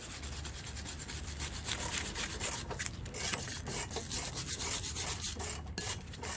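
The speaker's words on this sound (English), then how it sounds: "Do it manually with a wire brush, but with a power thing if you wanted to." A wire brush scrubs a brake caliper bracket by hand during rear brake work on a 2020 Nissan Rogue SV, giving quick, close, repeated scratchy strokes with no talk.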